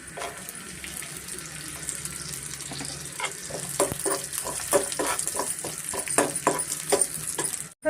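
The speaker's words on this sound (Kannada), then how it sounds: "ತುಪ್ಪದಲ್ಲೇ ಫ್ರೈ ಮಾಡ್ಕೊಳ್ಳೋಣ ಮೀಡಿಯಮ್ ಫ್ಲೇಮಲ್ಲೇ" Cashews, almonds and raisins fry in ghee over a medium flame, a steady close sizzle with scraping and stirring clicks that grow busier toward the end.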